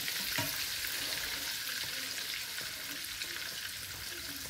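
A grilled cheese sandwich fries in a pan over medium heat, with a steady close hiss and light spitting sizzle that carries on unbroken throughout.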